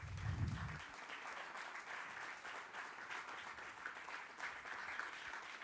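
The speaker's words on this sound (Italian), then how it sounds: "vorrei fare un bel applauso per Roberto Balzani" Audience applause for Roberto Balzani at a public talk in the salotto of Lido Adriano, a steady, fairly quiet wash of clapping from a modest crowd after a brief low thump at the start.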